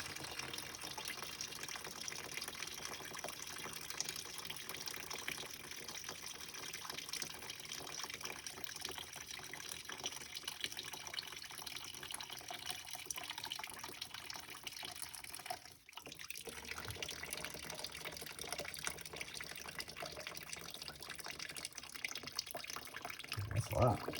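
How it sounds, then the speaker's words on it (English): Continuous rushing water pouring out steadily from a clogged P-trap on a heating system, a broad hiss that persists throughout with a brief dip midway. "Water that's not supposed to be there."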